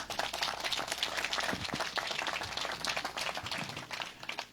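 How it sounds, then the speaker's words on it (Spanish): A church congregation claps hands for Jesus Christ, dense fast applause from many people, fairly faint and distant, sustained for several seconds. "A ver, dele palmas al Señor Jesucristo."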